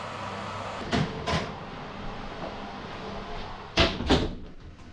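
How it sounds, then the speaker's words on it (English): An oven door shut in a home kitchen while cooking a ham hock, heard as two pairs of muffled knocks and clunks, one pair near the start and a louder pair later, over a low steady hum with no talk. "We'll shut the oven door and we'll do it for another half an hour on 160 Celsius."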